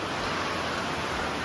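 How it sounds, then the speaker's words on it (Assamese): Rain falls in a steady, dense hiss, loud and continuous, filling the short stretch without any voices. "বৰষুণ দি আছে যে সেইকাৰণে নুশুনিব পাৰে"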